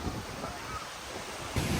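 Sea waves wash onto the beach at Hat Nam Sai in Sattahip, Chonburi, Thailand, a close, broad rushing surf blended with wind noise on the microphone.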